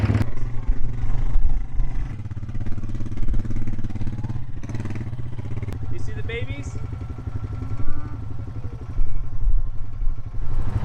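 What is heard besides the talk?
tractor engine running on a ranch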